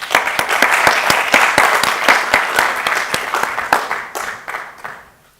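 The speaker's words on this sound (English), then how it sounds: "I hope you can join me for a moment to applaud them for their effort." A conference audience at a closing session claps in a dense, steady burst of applause that holds for several seconds, then thins out and fades to a few scattered claps.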